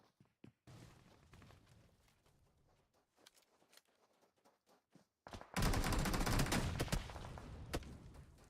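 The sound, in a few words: gunshots in an esports video game match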